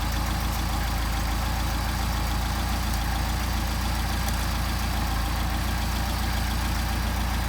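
A Mercedes 190SL engine idles on Solex carburetors with a steady, even low rumble throughout, close and constant, with no voices.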